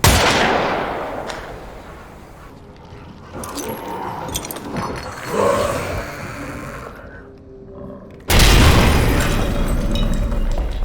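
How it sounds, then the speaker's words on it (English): Gunfire and a grenade blast in the horror game Amnesia: The Bunker, with a sharp loud burst at the start and again near the end, and quieter rumbling, clattering action in between. "You feel it when you pull the trigger, or when a grenade goes off."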